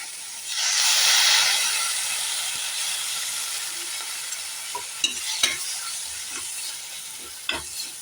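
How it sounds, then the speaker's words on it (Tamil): Mushrooms for a pepper fry hit a hot pan with a little water and start sautéing, a loud hissing sizzle that swells at first and then settles into a softer sizzle with occasional scraping stirs and clinks. "ஒரு 2 நிமிஷம் வதங்கட்டும்"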